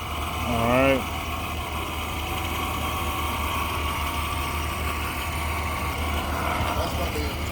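A car engine idles with a steady low rumble throughout; a short burst of talking rises over it near the start, then the hum continues alone.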